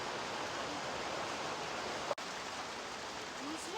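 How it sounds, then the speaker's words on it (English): Steady rain falls outside a poor rural home in Vietnam, a continuous even hiss close by with one brief sharp click partway through and no voices. "As the rain begins to fall"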